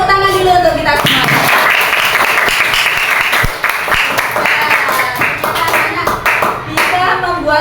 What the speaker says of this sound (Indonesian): Sebelumnya tepuk tangan dulu untuk kita semua.